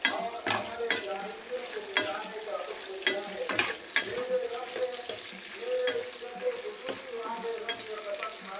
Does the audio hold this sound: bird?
no